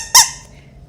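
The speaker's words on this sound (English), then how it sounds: "That's when I got my little squeaky pig." A little squeaky toy pig from an old collection gives a single sharp, high squeak, close and loud, then fades into quiet.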